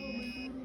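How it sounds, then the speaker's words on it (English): A piezo buzzer wired to an Arduino board gives one short, steady electronic tone, fairly quiet and heard alone. "once you uploaded the code, the buzzer will start making noise"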